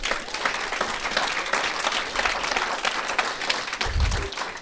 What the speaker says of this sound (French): une petite main d'applaudissement pour Francis